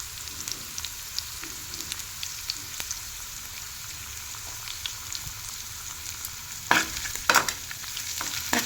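Ginger paste with a pinch of turmeric sizzles steadily in hot oil for a capsicum coconut curry, a soft continuous crackle with a few sharper spoon scrapes and clinks near the end, no voices.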